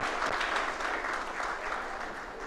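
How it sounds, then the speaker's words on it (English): Audience at a lecture applauding steadily, a dense, even wash of many hands clapping together with no break for the full couple of seconds. "Another round of applause for the man of the moment."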